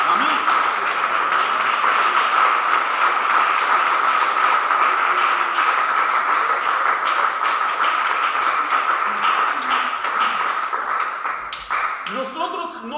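A church congregation applauding during a Spanish-language Sunday morning service, a steady broad wash of clapping that holds for several seconds before thinning out near the end.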